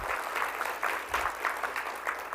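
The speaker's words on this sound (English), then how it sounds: "So I want to do a little clap for her as well." An audience gives a brief round of applause for a senator at a legislative gathering, moderately loud with irregular, overlapping claps from a crowd.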